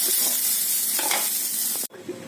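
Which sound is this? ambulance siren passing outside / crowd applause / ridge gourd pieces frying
ridge gourd pieces frying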